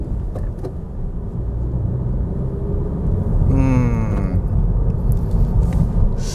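A Honda Civic FK7 with an aftermarket air cleaner rolls along slowly on a narrow empty road, windows closed, its engine a steady muffled rumble from inside the cabin, with a brief whine rising midway.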